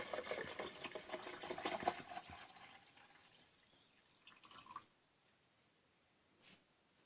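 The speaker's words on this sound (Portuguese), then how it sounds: "enchemos a garrafinha de água" Filtered water trickles and gurgles into a small bottle, fairly quiet and close, with the pouring strongest at first and then tapering into a few soft drips.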